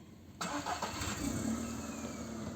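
A medium car engine rises abruptly and passes by on a street, a steady mid-pitched roar that stays fairly loud for a couple of seconds with no talk over it.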